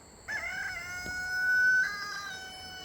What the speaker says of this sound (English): I hear you, rooster.